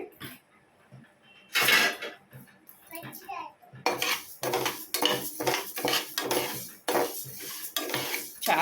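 Moong dal roasting in a pan, stirred with a metal spoon that scrapes and clatters in bursts against the pan, with quiet gaps between strokes and a little faint talk.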